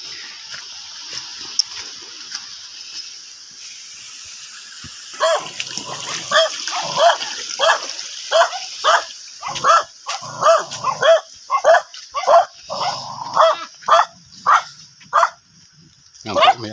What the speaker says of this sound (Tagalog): Yan po, may aso. Yan. May mga aso po.